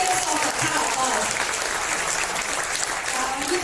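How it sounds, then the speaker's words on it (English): A corporate launch audience claps in a steady, dense wash of applause, loud and sustained throughout with no pauses. "You can keep applauding."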